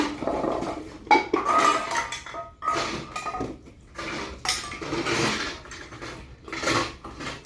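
Metal pots, tins and containers clink and clatter in irregular bursts as they are lifted out of a sack while setting up a new home, close and moderately loud with pauses between handling.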